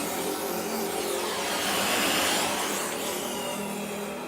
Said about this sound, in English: The safest option is to try and burn the pin out with a blowtorch.